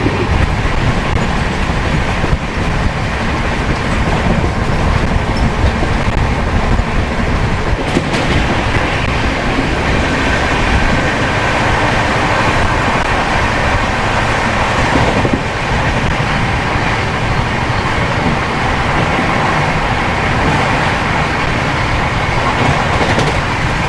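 The Howrah–Puri Shatabdi Express runs at speed near 128 km/h in Odisha, a loud continuous rushing roar with rattling carriages and faint wheel clatter heard from onboard throughout.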